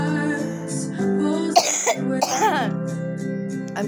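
A person coughs close to the microphone in two harsh bursts with some throat clearing, while a steady musical tone continues underneath.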